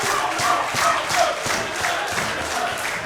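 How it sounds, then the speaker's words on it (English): A wrestling crowd at a live UKPW match roars and chants in a steady wash of cheering, with a few individual shouts rising above the noise. "how little effort it takes to get this crowd in a frenzy here"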